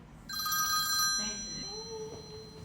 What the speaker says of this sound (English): whose cell phone is that?